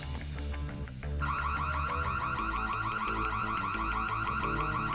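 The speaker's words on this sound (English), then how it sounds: "Sound the alarm" An intruder alarm in the stealth video game Chaos Theory blares loudly and steadily in a rapid warbling electronic whoop, kicking in after a brief lower-pitched lead-in and continuing without pause.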